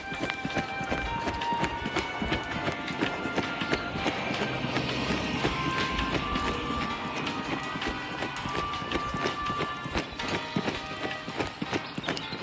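A London train heard from on board or trackside: steady rumbling wheels and carriage noise with faint squeals and rattles, held at a constant moderate level throughout, with no talk.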